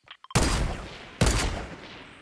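Gunfire in the video game Fortnite rings out in two loud, close, sustained bursts of rapid shots separated by a short pause, after a few faint clicks at the start.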